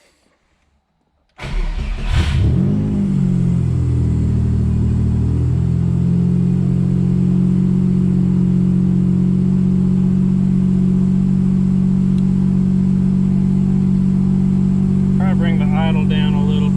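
An EG33 engine in a turbo Subaru Impreza cranks and catches after a short silence, then settles into a loud, steady rough idle that runs on close by, with a brief rattle near the end.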